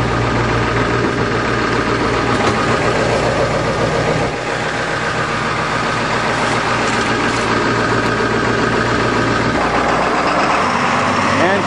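A 1996 school bus engine runs steadily at a loud idle, a deep continuous rumble with a heavy low drone throughout and no talk.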